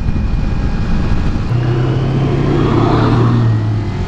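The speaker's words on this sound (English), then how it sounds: "That's an old school bus." An old flat-front school bus drives past, a steady loud engine rumble that swells with a low droning tone midway, no voices.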